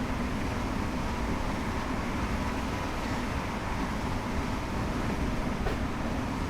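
A Class 365 electric multiple unit in Train Simulator 2020 accelerates on a late-evening Biggleswade to Peterborough run, giving a steady, even broadband rumble and drone throughout with no talking.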